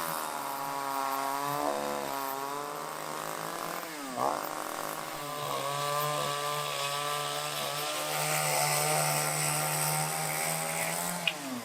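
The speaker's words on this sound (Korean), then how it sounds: "갑자기 전기톱 퍼포먼스가 시작되었습니다" A chainsaw cuts through a thick wood slab in a Korean wood slab factory, its loud whining drone rising and falling in pitch as the blade bites, with a brief dip midway before steady cutting resumes.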